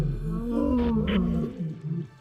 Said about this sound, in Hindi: वो बहुत शोर मचा रहे थे, दहाड़ रहे थे।